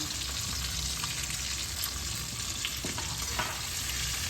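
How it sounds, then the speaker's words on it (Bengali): Dry red chillies, a bay leaf, cardamom and cinnamon fry in hot oil for a vegetarian Bengali cauliflower and potato curry, a steady dense sizzle with faint stirring clicks, close and continuous. "ফোড়নে দিয়ে দিচ্ছি 2টো শুকনো লঙ্কা, 1টা তেজপাতা, 3টে এলাচ, 2টো দারচিনি দানা"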